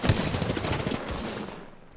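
Rapid bursts of automatic gunfire crackle loudly in an Apex Legends match, dense overlapping shots for about a second before easing into a fading tail.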